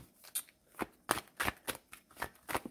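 A deck of tarot cards being shuffled and handled up close, a quick run of soft, crisp riffling slaps and flicks in irregular rhythm, quiet and alone without talk.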